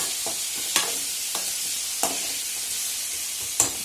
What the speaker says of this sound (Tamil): சட்டினிக்கு நல்ல வதங்கணும்